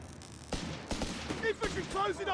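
Sharp bursts of gunfire from a Company of Heroes 3 match, Afrika Korps against British forces, crack out a few times over a busy battle din, with a commentator talking over the later shots.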